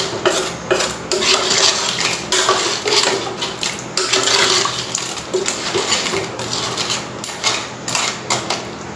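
Crab bafat curry with coconut milk stirred in a pot, a busy close-up clatter of utensil and shells scraping and knocking against metal in quick, irregular strokes over a wet bubbling background.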